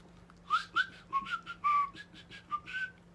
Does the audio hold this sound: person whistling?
yes